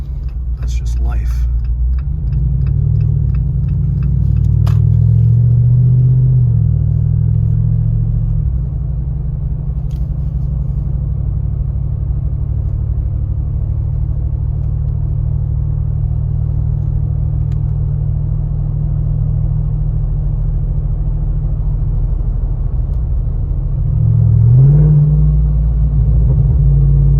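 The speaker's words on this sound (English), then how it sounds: "Some nice little pops in the exhaust." A 2024 Jeep Wrangler 392 with a big V8 gives a steady, loud low engine and exhaust drone while cruising, swelling briefly around two points, with occasional faint pops.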